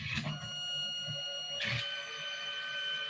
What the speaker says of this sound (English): my printer's making a noise.